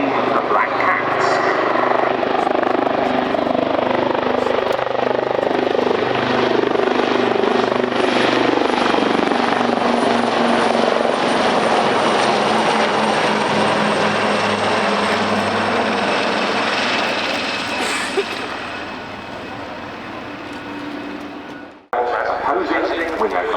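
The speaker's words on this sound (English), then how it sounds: "Navy helicopter display team, the Black Cats." Royal Navy Wildcat helicopters of the Black Cats display team flying a duo display at an air show, a loud continuous rotor and turbine roar that persists, then drops off abruptly near the end, with commentary voices mixed underneath.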